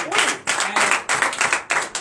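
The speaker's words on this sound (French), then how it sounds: "Donne une acclamation à Jésus." A church congregation at a Sunday worship service claps and cries out in acclaim, with bursts of loud, close hand claps swelling and pausing roughly every half second amid overlapping shouts.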